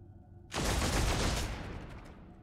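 Supercharged gunfire erupts in Warhammer 40k: Deathwatch Enhanced Edition as a loud, dense blast that kicks in suddenly and holds as a roaring burst for about a second before tapering into a rumbling tail.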